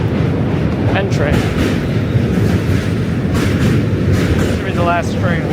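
Loud, continuous rumble of a New York subway train crossing a bridge, with rattling wheels, close and unbroken for the whole stretch.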